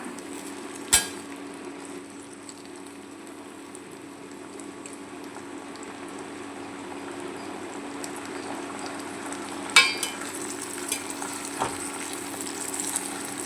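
Raisins frying in oil for a raisin pickle, a soft steady sizzle with a few sharp utensil clinks as they are stirred.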